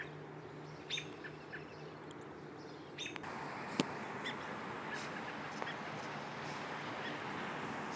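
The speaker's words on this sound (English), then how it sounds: "we got quite a few robins out here." Faint robins chirp now and then, a few short calls over a steady outdoor background hum at dawn.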